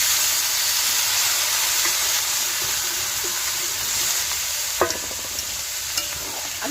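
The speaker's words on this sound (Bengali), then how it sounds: "আলুটা ভালো করে কষিয়ে নেব" Diced potatoes, about 500 grams, stirring and sizzling in spiced oil in a vegetarian home kitchen, a steady close frying hiss with a few sharp clinks of a spoon against the pan near the end.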